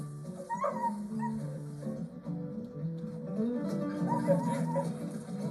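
A dog on a leash, refusing to walk, whimpers and gives high, wavering yips in a close, continuous stream of plaintive cries.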